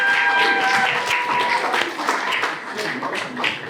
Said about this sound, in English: Please stand and applaud for our development engineers.